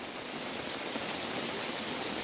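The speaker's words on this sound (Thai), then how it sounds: "แล้วก็มาเลยครับฝน" Steady, dense rain hisses down during a sudden storm at the Mae Kuang dam in Chiang Mai, Thailand, a constant wash of sound with no voices.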